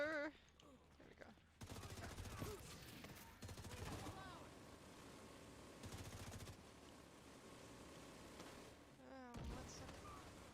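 Video game gunfire crackles in sustained automatic bursts, several separate volleys spread across the moment, with game sounds and a voice speaking faintly in between.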